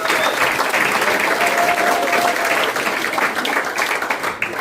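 Sustained, even clapping from a crowd at a cruising club celebration, filling the whole stretch without pause.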